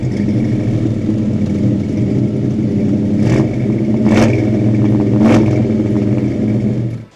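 A 1985 Chevy C10 pickup engine idles loudly and steadily nearby, then gets three quick sharp throttle blips that rise and fall in pitch, with no one speaking.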